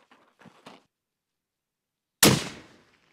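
A single loud gunshot from a Christensen Arms MPR 300 PRC rifle with a sharp crack and a decaying tail. A few brief quiet speech sounds come before it.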